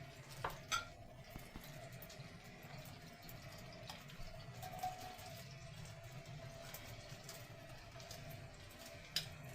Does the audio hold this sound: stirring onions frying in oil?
yes